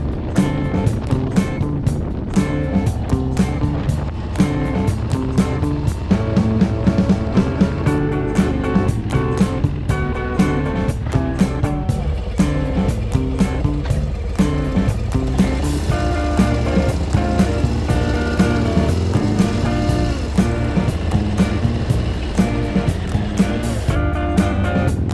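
Harley-Davidson Road Glide ST motorcycle with Thrashin Apex boards being ridden, a steady loud engine drone with wind rush and rhythmic shifting pulses throughout, no talk.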